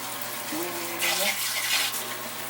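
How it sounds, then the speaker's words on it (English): Cold running water splashing from a tap into a bowl as rice is rinsed, with a faint voice briefly underneath. "put a little bit of water in here, rinse this stuff really good"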